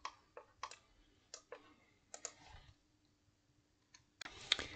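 Computer mouse clicks while working in CATIA V5 CAD software: a quiet, close series of sharp single and double clicks spaced irregularly, with a louder burst of clicking near the end.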